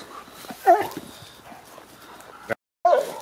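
Hunting hounds, an Istrian and a Porcelaine, on a hare hunt in the Greek countryside give a couple of short, sharp yelps several seconds apart over a quiet, faintly noisy outdoor background.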